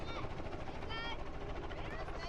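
A helicopter runs nearby in the bush at a rhino ear-notching site, a loud, continuous rotor and engine roar that fills the scene, with voices underneath.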